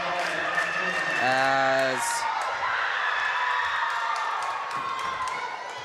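Wasatch fans cheer loudly at a girls high school basketball game, a dense roar of shouting and applause that peaks early, slowly fading, while a commentator talks over it and a buzzer-like tone sounds briefly.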